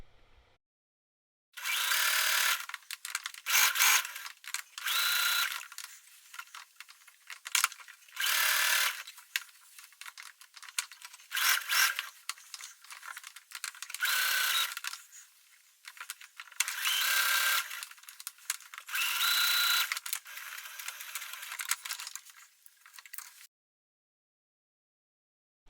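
A sewing machine stitches elastic onto fabric for summer shorts, running in repeated short bursts with brief pauses between, fairly close and clear, with no voices.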